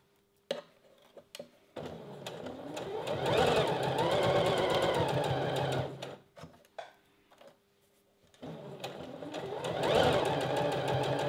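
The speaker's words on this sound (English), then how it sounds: "now I'm going to sew the seam with a 1 centimeter or 3/8 of an inch seam allowance" A sewing machine stitches a bra seam through stretch mesh lining in two close, rapid bursts of mechanical whirring and ticking, separated by brief pauses with small clicks.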